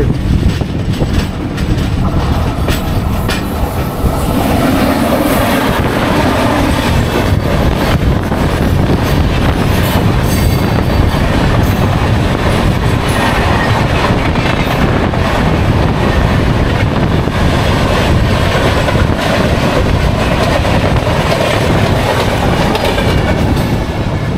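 The Falaknuma Express 12703, running from Howrah Junction to Secunderabad, rolls loudly into a station with continuous wheel rumble and clattering carriages, close and sustained throughout, alone without voices.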